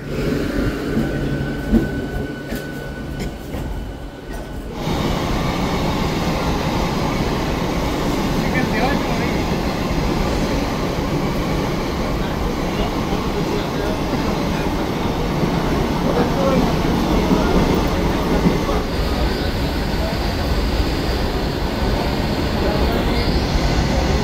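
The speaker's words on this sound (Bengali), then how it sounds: "পাঁশকুড়া স্টেশনের 1 নম্বর প্ল্যাটফর্ম থেকে আমাদের ট্রেন ছেড়ে বেরিয়ে যাচ্ছে দীঘার উদ্দেশ্যে" A local train bound for Digha pulling out of platform 1 at Panskura station, a loud continuous rumble of wheels and carriages with rattling and faint squeal, steady throughout after a brief quieter start.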